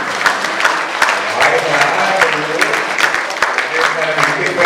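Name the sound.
audience clapping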